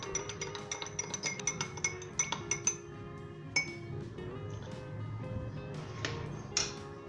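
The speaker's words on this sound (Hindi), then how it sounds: "दोस्तों आपने अच्छी तरीके से मिक्स कर लेना है।" A spoon mixes a turmeric and honey home remedy in a glass, giving a quick run of bright, close clinks and taps, then scattered single chimes after short pauses.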